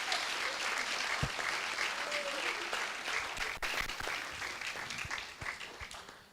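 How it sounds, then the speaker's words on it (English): Sustained applause from a graduation ceremony audience fills the hall, dense and even throughout with a few sharper claps standing out, and faint voices underneath. "I would like for you guys to give them a round of applause."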